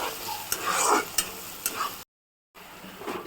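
Bitter gourd frying with spices in hot oil, a steady close sizzle with a few sharp stirring scrapes, broken by a brief silent gap before the frying resumes.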